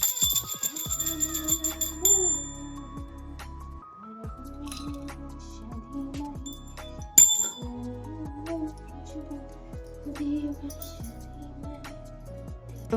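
A small hand bell rings during a home puja for jalabhishek. Quiet, repeated tinkling rings mix with light clinks and taps in an irregular rhythm over several seconds, mostly alone at moderate volume.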